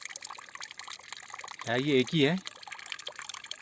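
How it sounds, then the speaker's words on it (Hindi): Steady flow of water pouring from an old stone tap carved from a single stone outdoors, a continuous close trickle and splash running throughout, with someone speaking briefly over it. "ये जो इसका नल है जिससे पानी बह रहा है, ये उस ज़माने का नल है"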